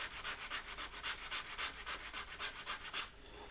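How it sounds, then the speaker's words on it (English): Sandpaper rubs back and forth over a wooden flat-back pattern for duck decoy weights in quick, even strokes, about a dozen rhythmic scrapes close up before the motion stops. "the finish work with the sandpaper"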